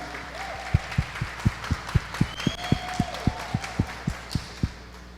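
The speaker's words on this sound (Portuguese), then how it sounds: "Uma salva de palmas para Jesus." A church congregation at a worship service claps in a slow, steady unison rhythm, about a dozen even beats under a faint background hum, with no talking over it.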